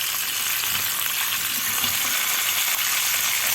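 Chicken with black pepper, cinnamon and cumin frying in a pan, a steady bright sizzle throughout with faint scraping of stirring underneath, close and loud with no talk.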